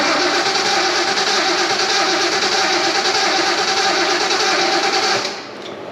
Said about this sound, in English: Crank her up, Doug.